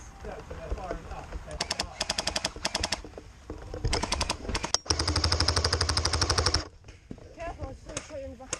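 Airsoft guns firing during an outdoor skirmish in Nottingham: rapid bursts of automatic clicking shots in several strings, one long sustained volley in the middle, with people talking between and under the firing.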